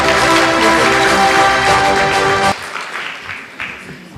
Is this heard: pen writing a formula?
no